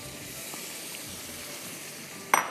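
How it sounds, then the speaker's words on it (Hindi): Prawns with tomato and spices sizzle in a hot pan, a steady close hiss of frying that runs throughout, ending with a short louder clatter. "झींगे जा रहे हैं अंदर"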